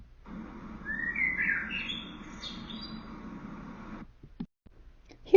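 A blackbird sings, the bird whose song inspired Messiaen: bright, rising whistled phrases and a flourish over a faint hiss, with a short high call near the end.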